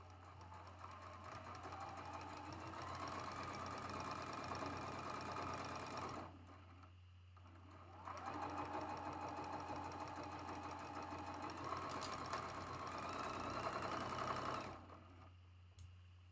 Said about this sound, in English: We're going to sew from edge to edge with a 1/4 inch seam allowance.